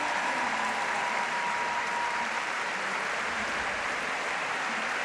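Steady crowd applause fills an arena at a European gymnastics championship as gymnast Lorette Charpy is led off the floor, a continuous even clapping with no breaks.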